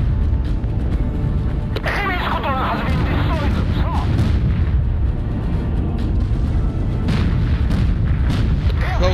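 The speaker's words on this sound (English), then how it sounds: "Port gun, fire." A warship's port gun firing in the naval combat game Battlestations Pacific: heavy artillery booms over a constant dense roar of battle, with several sharp blasts rising out of the rumble and voices heard beneath.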